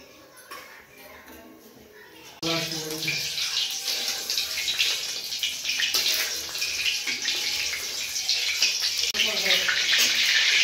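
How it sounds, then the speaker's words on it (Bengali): Cooking oil poured into a kadai on the stove, ready for frying rui fish: after a quiet start, a sudden steady rushing pour begins and continues loud and close to the end. "কড়াই আমি তেল দিয়ে দিচ্ছি।"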